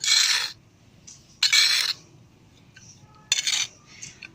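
Potting soil mixed with manure and bone meal produces three loud, gritty scraping bursts, each about half a second, separated by quieter rustling and faint clinks.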